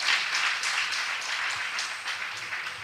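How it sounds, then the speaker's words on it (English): Audience applause at a nursing college event in Edo State, Nigeria, steady crowd clapping at moderate loudness, slowly easing off over a few seconds. "So he deserves a special round of applause."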